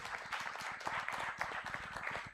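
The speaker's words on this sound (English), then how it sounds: "you're going to give them a round of applause" Audience applause for doctors at a medical workshop, a dense patter of many hands clapping steadily throughout at moderate level, no voices.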